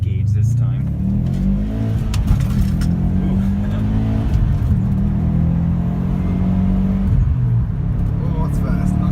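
A 2013 Subaru STI accelerates hard, its engine rumbling low and rising in pitch through the revs with a shift partway, heard loud from inside the cabin, with people talking over it.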